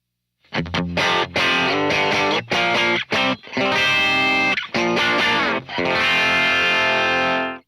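An electric guitar through a Prescription Electronics RX Overdriver pedal with overdrive maxed out blasts loud, saturated chords and riffs in bursts separated by short gaps, thick and buzzy.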